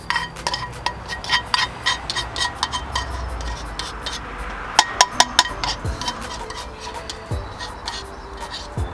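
Mushrooms and sautéed onion set onto a burger on the grill, a clatter of pans and utensils with sharp metallic clinks and scraping, close and fairly loud, with faint talk in the background.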